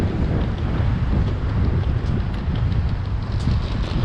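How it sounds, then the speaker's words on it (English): Strong wind gusting at a main street intersection in Sapporo, buffeting the microphone with a loud, continuous low roar and no voices. "Man, it's windy."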